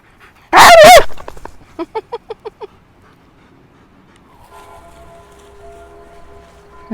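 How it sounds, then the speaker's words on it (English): A dog barks outdoors in the Swiss countryside, one loud close bark followed by a quick run of six shorter, quieter barks, then quiet with a faint background hum. "Happy dog, huh?"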